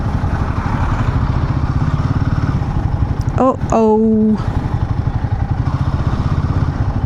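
A motorbike ridden along a highway, its engine droning steadily and loudly throughout with constant wind rush, while a woman briefly calls out midway.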